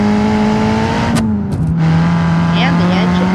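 A Cherrier Vivace car in BeamNG.drive hums with a steady engine tone that breaks briefly around a gear shift, then settles at a new pitch and carries on, loud and close, with faint chirps later in the clip.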